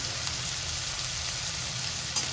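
Garlic, green chili and onion frying in a pan, a steady soft sizzle with a faint crackle running evenly throughout and one brief louder pop near the end.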